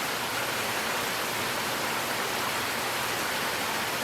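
Steady rain falls over a garden during an evening thunderstorm, a dense, even hiss of drops that continues unbroken without any talk.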